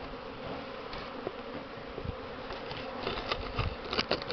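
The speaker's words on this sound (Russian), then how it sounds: "на следующую весну можно полюбоваться, как пчелы летают" Honey bees on a spring cleansing flight, a dense, steady buzzing of many insects close by that holds throughout with no voices.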